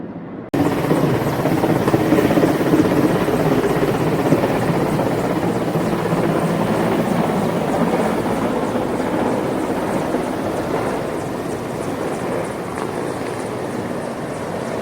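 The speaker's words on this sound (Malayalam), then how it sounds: "അദ്ദേഹത്തിൻ്റെ ഹെലികോപ്റ്റർ സുരക്ഷിതമായിട്ട് ലാൻഡ് ചെയ്തു." A helicopter carrying India's Vice President landing on the NSS college ground in Changanassery makes a loud, steady rotor roar that starts after a brief moment of silence and stays close and powerful throughout.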